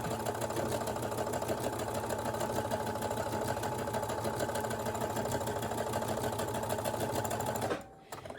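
A Brother SE1900 sewing machine runs a blind stitch with the R blind stitch foot, a steady loud mechanical whir and rapid needle clatter held evenly for about eight seconds before stopping abruptly.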